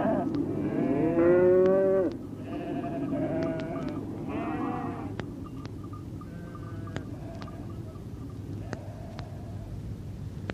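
Cows moo loudly, with long drawn-out lows, and sheep bleat in shorter repeated calls alongside them. The animal calls come close together at first, then thin out while someone narrates over them.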